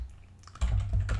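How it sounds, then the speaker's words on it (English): Keys clatter on a computer keyboard while employee information is entered into an Excel spreadsheet, the tapping starting softly and then turning into a dense, close burst of keystrokes with no talking. "I'm going to start typing our employee information right here."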